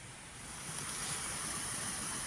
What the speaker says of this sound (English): Little baby waterfall.